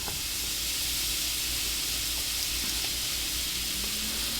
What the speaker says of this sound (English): Put me some butter on this flat top.